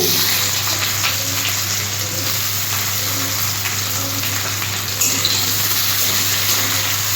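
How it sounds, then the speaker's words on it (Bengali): Onion added to hot oil with tempering spices for a spicy okra and small-fish curry, producing a continuous loud, hissing sizzle that holds steady throughout with no talking. "আমি পেঁয়াজটা দিয়ে দিচ্ছি।"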